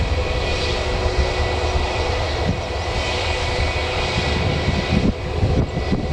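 A Jet2 airliner rotates and climbs away from the runway at Newcastle Airport, its engines a loud, sustained roar that fills the whole stretch and swells slightly near the end, with no voices over it.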